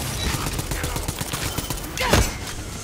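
Gunfire in Tiny Tina's Wonderlands: rapid, loud repeated shots in a steady burst, ending in a heavier blast near the end.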